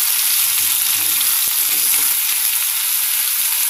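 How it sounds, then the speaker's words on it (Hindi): Pumpkin sabzi (kaddu ki sabji) frying in a pan while being stirred, a loud continuous hissing sizzle close up with faint scraping underneath and no talk. "सब्जी को मक्खे से मिक्स कर देते हैं।"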